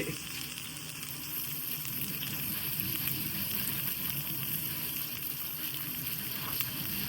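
Ginger, green chilli and onion sautéing in hot oil after mustard seeds have been added, a steady, fairly quiet sizzle with light stirring running continuously throughout.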